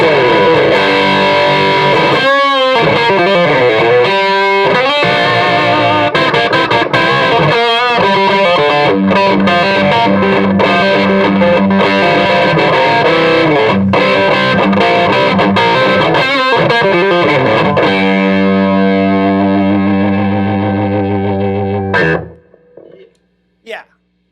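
A PRS electric guitar on its bridge pickup through a PRS MT100 amp plays loud, distorted, driven riffs and sustained chords for over twenty seconds, ending with a ringing chord that cuts off abruptly.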